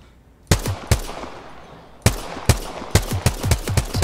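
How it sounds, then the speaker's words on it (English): Gunfire in Apex Legends: sharp, loud bursts of shots, two isolated cracks followed after a pause by a rapid run of repeated shots with ringing tails, no voices over them. "I'm shooting at the dragon"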